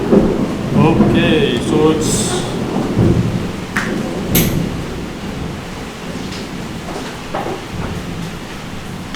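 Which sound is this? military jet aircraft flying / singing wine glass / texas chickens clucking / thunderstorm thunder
thunderstorm thunder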